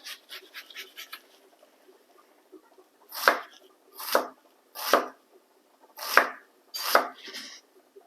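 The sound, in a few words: chopping a yellow onion thinly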